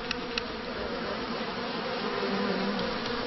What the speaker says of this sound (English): You still got to feed the bees, you got to move them around, got to pollinate the crops